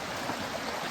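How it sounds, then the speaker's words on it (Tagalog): A river flows in a steady, close rushing babble of water, even and continuous for the brief moment with no voices over it. "Ang ganda ng ilog."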